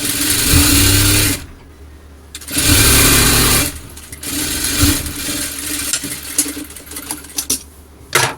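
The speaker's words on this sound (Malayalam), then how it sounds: "ഡബിൾ സ്റ്റിച്ച് കൊടുത്ത് എടുക്കുന്നുണ്ട് കേട്ടോ" A sewing machine double-stitches scrap cloth pieces together in loud, rapid whirring bursts, stopping and restarting several times, with faint clicks between runs.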